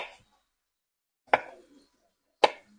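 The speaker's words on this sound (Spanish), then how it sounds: "picando el ají." A knife chopping chili peppers on a cutting board in a home kitchen, three sharp separate chops spaced about a second apart, close and clear with no talk.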